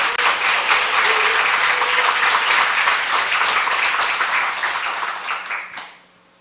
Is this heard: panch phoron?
no